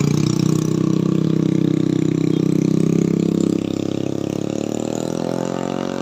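A motorcycle engine labours up the steep Sendi Pacet climb, its loud, close drone holding steady and then sagging lower midway as it strains against the slope.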